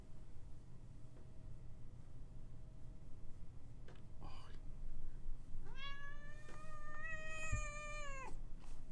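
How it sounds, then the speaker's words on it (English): A pet cat being stroked lets out one drawn-out meow near the close of the span, heard up close over a quiet room hum with faint rustling beforehand. "Let's hear that question, Valero RVA, while I pet my cat."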